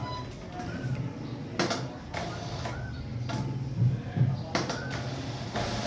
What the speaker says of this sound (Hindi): ऊपर धागा नहीं है, खाली मशीन है बगैर धागे के।